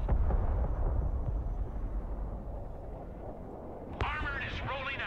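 Rocket artillery fires in the Broken Arrow war game: a dense, continuous low rumble of launches and blasts, loud at first and easing, with a sharper burst and crackle near the end.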